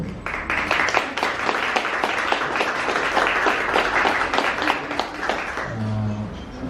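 An audience at the Sofia International Film Festival applauds to welcome a guest: dense, sustained clapping from many hands that fades near the end as a voice begins speaking.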